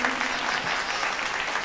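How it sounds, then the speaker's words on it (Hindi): Steady audience applause at a Hindi kavi sammelan poetry gathering, a dense even wash of many hands clapping that carries on without a break throughout. "तालियां बजाते रहे"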